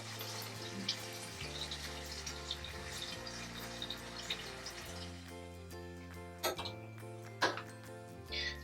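Water flows through a siphon hose drawn from a fish tank by a squeeze pump filter starter, a steady close trickle over background music, with a few brief splashes near the end.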